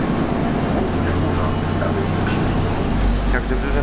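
Interior of a moving city bus in Warsaw, a steady low engine rumble and road noise with occasional rattles, while a person talks over it.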